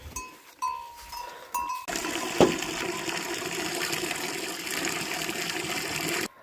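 Water gushes steadily for several seconds as it is poured out for cattle to drink in a hill village, following a few brief clinks and knocks.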